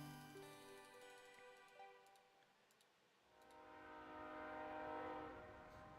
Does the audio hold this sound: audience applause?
no